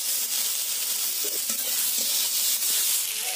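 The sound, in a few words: potatoes and eggplant frying in a pan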